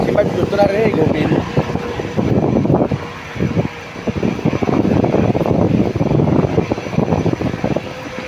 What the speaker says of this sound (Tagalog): Grabe inihigop ng hangin ng aeroplano.